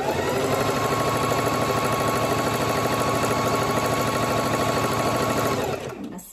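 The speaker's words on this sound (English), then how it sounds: "I'm going to sew. Keep feeding the fabric through." A sewing machine stitches ribbon trim onto tutu fabric, running at a steady rapid whir with a continuous mechanical buzz for about five seconds before winding down and stopping.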